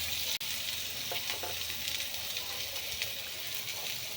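Onions sizzle in hot oil in a pan, a steady, close frying hiss broken by a few stirring scrapes and one brief thump near the start, with no talk over it.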